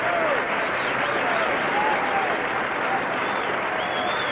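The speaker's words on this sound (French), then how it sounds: "Ils n'arrêteront jamais d'applaudir." Steady, dense applause from a theatre audience fills the whole stretch at an even level, with no break, and faint whistles drift over the clapping.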